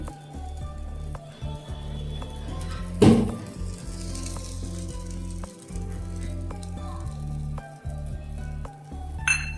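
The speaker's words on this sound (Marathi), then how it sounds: "आता तूप घालूया आणि आपल्याला छान भाजून घ्यायचं आहे." Sweet corn appe frying in ghee in an appe pan, a soft steady sizzle with light clinks of a utensil and one sharp burst of hissing partway through, no talking.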